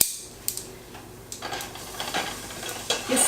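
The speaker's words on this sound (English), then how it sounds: "you stir it around and make sure it doesn't burn" Garlic with onions and ginger is stirred in a pot, a spoon scraping and clinking against the metal in short irregular strokes over a faint sizzle, close up and without voices.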